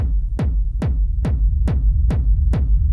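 A deep reverb rumble pulses under an industrial techno groove in Ableton, seven evenly spaced kick hits each trailing a low, swelling tail, loud and rhythmic with no voices.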